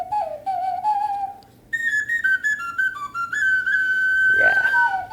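A Mesoamerican clay ocarina plays a short melody of clear, breathy whistle-like tones, a low phrase followed by higher sustained notes with a brief gap, close and fairly loud with faint background hiss.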